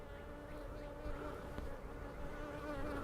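Honey bees buzz around a beehive entrance, a steady droning hum with individual insects passing close, faint and continuous outdoors.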